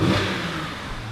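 A Mercedes-Benz CLK350 Avantgarde with 57,000 km on it revs nearby, giving a brief rising engine roar that eases back toward a smooth idle, loud and alone without any voices.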